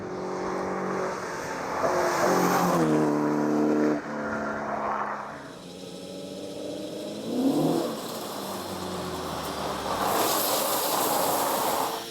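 A Caterham sports car corners on the throttle, its engine note rising and falling in pitch as the driver lifts and accelerates, loud and close with a faint hiss beneath and no talk.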